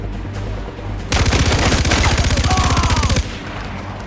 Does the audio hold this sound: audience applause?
no